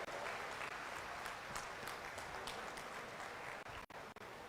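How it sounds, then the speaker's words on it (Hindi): An audience at an official event welcoming a chief minister with applause: dense, steady clapping from many hands, heard at a distance and fairly faint, thinning out near the end. "एक बार जोरदार ताली बजाकर आदरणीय मुख्यमंत्री जी का स्वागत करें"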